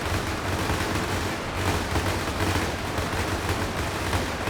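Dense, continuous gunfire from German bolt-action rifles in a huge simulated World War II trench battle against orcs and trolls, a steady distant crackle of many overlapping shots with no pauses.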